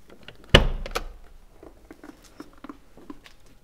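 The rear-hinged door of a 2021 Mercedes G-Class with a carbon fiber Hofele body kit unlatches with one sharp, close clunk, followed by faint clicks and soft mechanical patter as it swings open.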